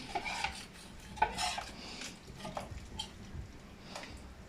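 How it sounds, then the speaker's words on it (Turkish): A spoon stirring a milk and flour mixture in a pot, with soft scraping and rubbing strokes and light clinks against the pot, quiet and uneven over a faint room background. "Al bunu yavaş yavaş koy ben de karıştırayım anneciğim"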